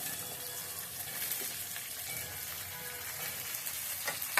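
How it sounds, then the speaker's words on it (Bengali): Potatoes fry in a pan alongside green chillies, giving a steady, close sizzle that holds at an even level throughout with no speech. "এবার এটার সাথে আলুগুলো ছেড়ে দিই।"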